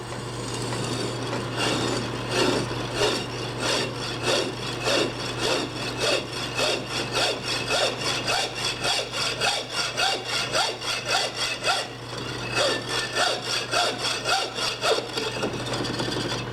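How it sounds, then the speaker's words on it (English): Steady back-and-forth hacksaw strokes cutting through a part during a belt disc sander rebuild, close and loud, with a quick regular rhythm running the whole time and a brief pause near the end. "Well, we can just use a hacksaw."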